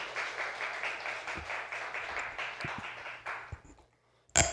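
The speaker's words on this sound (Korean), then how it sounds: "우리 나오실 때 큰 박수로 환영하겠습니다" A church congregation applauds a welcome with a sustained wash of clapping at moderate distance, fading toward the end, before a sharp louder knock closes the moment.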